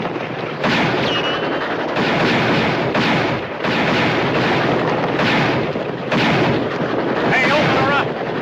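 Rifle gunshots fired at a river steamboat in the Wild West, a series of loud sharp bursts and rumbling reports repeating every second or so, with shouting voices mixed in.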